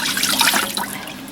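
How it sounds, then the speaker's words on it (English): Beef broth pours into a stew pot that already holds red wine, a brief close splashing gush of liquid heard alone without talk. "Now she's adding the beef broth, which she just told me is 2 cups."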